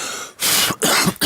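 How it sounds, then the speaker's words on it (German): Several coughs or throat-clearing bursts by a campfire in a cave, close and loud, three harsh bursts with short pauses between them. "Ein bisschen husten."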